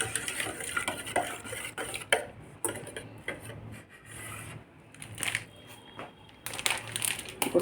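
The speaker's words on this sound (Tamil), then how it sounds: "தேங்காய் பாலில் ஃபஸ்ட்டு முட்டையை நல்லா மிக்ஸ் பண்ணிக்குவோம்" Egg is stirred into coconut milk in a bowl, with an irregular soft scraping and tapping of a spoon that keeps stopping and starting. The sound is faint and close, and no one speaks.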